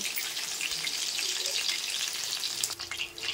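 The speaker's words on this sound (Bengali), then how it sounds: "মাছগুলো কিন্তু আমি লাল লাল করে এপিট ওপিট করে ভালো করে ভেজে নিয়েছি" Fish fried red on both sides in a pan gives off a steady, bright hissing sizzle, fairly loud and continuous, with a few faint clatters near the end.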